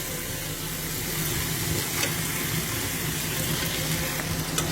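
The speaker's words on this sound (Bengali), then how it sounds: "এখন আমরা এটাতে চিংড়ি মাছ দিয়ে দেবো" Shrimp hit a pan of fried spice paste for shrimp bhuna, setting off a continuous, fairly loud sizzle that holds steady throughout with no talking.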